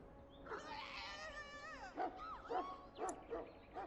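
Mabari warhound in Dragon Age: Origins giving several short yips and whimpering barks, with a whining drawn-out tone early on, close and moderately loud over faint game ambience.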